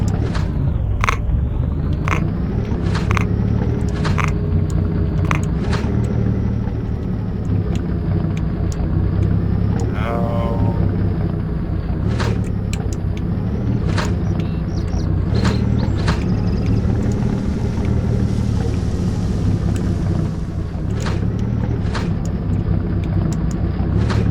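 In-game vehicle from S.T.A.L.K.E.R. Oblivion Lost driving through the Garbage area, a steady engine rumble with wind-like noise running continuously throughout, punctuated by occasional clicks and knocks, with no talking.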